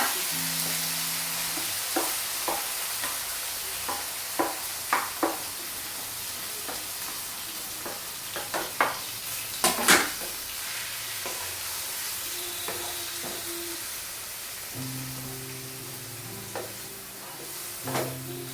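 Chopped onions sauté in oil for an egg curry with a continuous sizzle. A spatula stirs and taps the pan at irregular intervals, and a faint low hum sits in the background.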